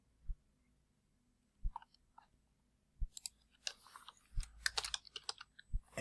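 A computer keyboard clicks nearby, first in a few sparse taps and then in a quick, denser burst of keystrokes, with a soft low thud recurring at intervals underneath.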